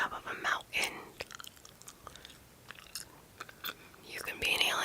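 Close-up gum chewing in an ASMR recording: wet, smacking chews in irregular bursts near the microphone, mixed with soft whispered talk.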